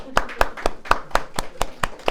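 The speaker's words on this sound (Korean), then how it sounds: "우리 박수로 환영할까요?" A church congregation claps in welcome, with about nine crisp, evenly spaced claps in a steady rhythm, close and distinct with no talking.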